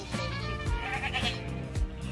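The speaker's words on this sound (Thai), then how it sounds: "ใช่น้องแกะไหมอ่ะแต่เขาตัดขนมันใช่ไหม" Sheep bleat repeatedly at a farm and orchard, with several overlapping wavering calls over a busy, steady background.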